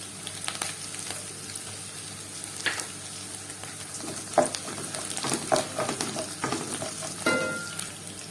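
Garlic, green chilli, coconut pieces and dried red chilli frying in hot oil, giving a steady close sizzle with scattered crackles and pops and a few stirring scrapes, no one talking.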